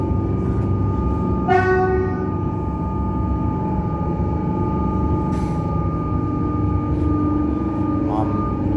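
Steady rumble of a Melbourne suburban train in motion arriving at St Albans station, with a brief horn-like tone and faint squeals, continuous and close.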